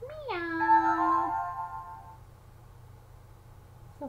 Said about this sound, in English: We've heard this one. What was it? Was our cat.